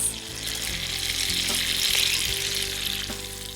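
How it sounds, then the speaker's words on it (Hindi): Finely chopped onion frying in a mix of butter and oil in a pan, a steady close sizzle with a few soft stirring knocks, no talking. "अब इसमें डाल देते हैं 1 कप बारीक कटा हुआ प्याज।"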